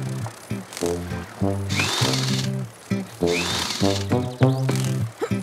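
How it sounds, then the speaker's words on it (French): In a children's cartoon, a power tool screws seats onto a pedal boat: repeated whirring bursts of the motor rise and fall in pitch, broken by short bright squeaks and clicks, with a voice talking in between. "Il ne reste plus qu'à les visser solidement."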